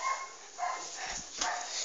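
A household dog barks faintly in the background, a few soft, distant yips under a steady hiss of room noise.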